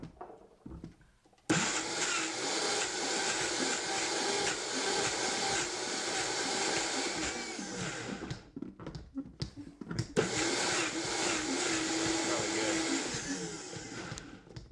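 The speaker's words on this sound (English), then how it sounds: "put it in the Vitamixer" A Vitamix blender whirs loudly as it purées kimchi ingredients, running steadily for several seconds, cutting out briefly, then roaring back up to a second sustained blend.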